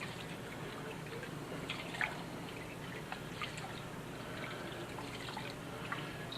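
Rice being washed by hand in a sink, with soft steady water sloshing and scattered small drips and splashes, fairly quiet and continuous with no talk.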